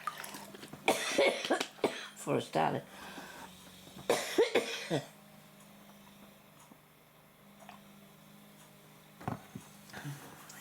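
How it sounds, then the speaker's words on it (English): Someone coughs repeatedly in harsh bursts up close, a cluster early, another later, then a quieter stretch with a final cough; a few words are spoken. "now I'm going to start coughing"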